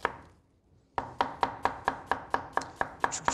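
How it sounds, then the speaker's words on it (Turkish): After a brief quiet moment, a knife starts chopping onion into fine dice on a board, about a dozen steady, crisp knocks heard up close with no voices. "şimdi soğanımızı ince ince doğrayalım. Zar gibi doğrayacağız."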